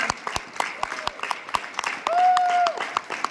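An audience at a direct-selling business meeting in Shankarpally breaks into scattered, uneven applause, with sharp hand claps mixed with a brief whistle and some voices in the background.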